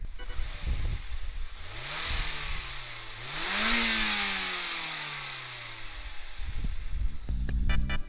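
A 2006 Mazda MX-5 NC engine revs up from idle, climbing to a sustained high note, then falling back and settling into a rumbling idle, heard nearby outdoors with some wind noise.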